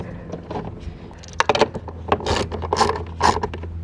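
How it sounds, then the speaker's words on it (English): A socket tool hand-starts and drives a screw into a Chevy Bolt car door during a mirror repair, giving close metallic ratcheting and clicking bursts, louder toward the end. "Take your fastener and the socket and go ahead and hand start that screw."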